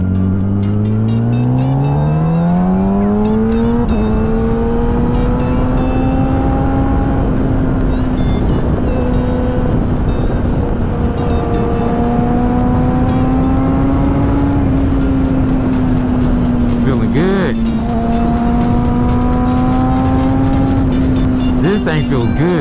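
A 2017 Kawasaki ZX10R with a flashed ECU and quick shifter roars under hard acceleration, its engine pitch climbing and falling through gear changes. The loud, close sound drowns out almost everything else, with wind noise throughout.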